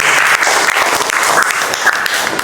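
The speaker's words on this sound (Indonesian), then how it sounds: "tepuk tangan buat kalian semuanya." Students applaud together in a classroom during an Islamic religious education lesson, a dense, steady burst of hand claps lasting a few seconds, close and fairly loud.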